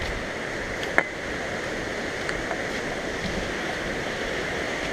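The Bad River at Copper Falls rushes steadily past a bridge in full, fast flow, a constant broad roar of water with a single faint knock near the start and no voices.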